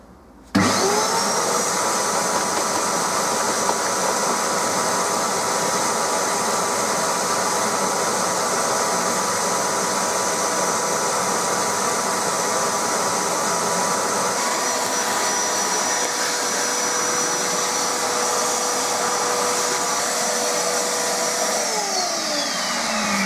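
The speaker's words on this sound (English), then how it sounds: "I'm going to get the vacuum cleaner going" A vacuum cleaner switches on abruptly and runs with a loud, steady whine and roar close by, then its pitch drops as it begins to wind down near the end.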